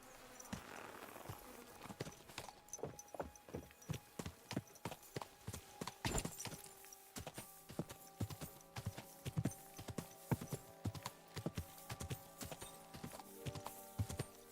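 Steady, rhythmic clip-clop of hooves on a hard surface in Kingdom Come: Deliverance II, a horse walking at an even pace with faint background hum.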